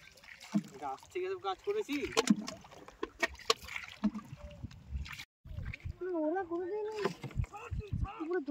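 A rowboat is paddled along a river, with soft splashes and water trickles coming in short strokes beneath near, steady conversation between several people.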